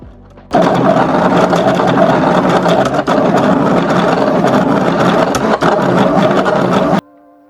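A home sticker-making machine runs loudly and steadily for about six and a half seconds, a dense mechanical whir that cuts in abruptly and stops just as suddenly, with no talking over it.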